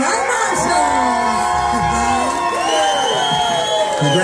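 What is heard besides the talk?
bar crowd cheering and applauding the winning band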